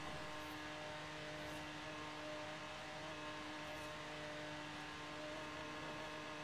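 Sleeper car engine in Forza Horizon 3 labouring uphill, a steady continuous drone with a strained whir throughout, fairly constant in level and heard alone without talk.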